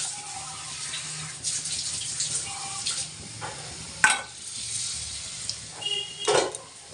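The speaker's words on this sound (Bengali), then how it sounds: "একটা করে পনির পকোড়া দিয়ে দেবো" Paneer pakoras dropped one at a time into hot oil in a wok, giving a steady broadband sizzle with short bursts of bubbling as each piece goes in, moderately close and without talk.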